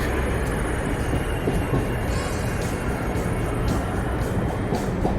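A train rolls into a station with a steady, loud rumble and hiss of wheels on rails throughout.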